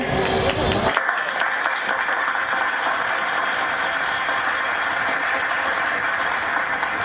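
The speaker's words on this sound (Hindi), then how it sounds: "जोरदार तालियां है कुमारी काव्या के लिए" Loud, dense applause from a crowd at an Independence Day celebration at a temple committee event, erupting abruptly after a brief moment of music and continuing as a sustained, even roar of clapping.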